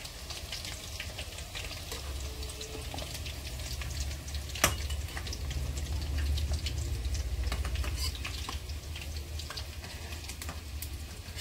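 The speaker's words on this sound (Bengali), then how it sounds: "আমি সব চিকেন পকোড়াগুলো এরকম করে সব ভেজে নিচ্ছি।" Chicken pakoras deep fry in a pan of oil, giving a steady close bubbling sizzle with scattered crackles and one sharper pop, with no voices.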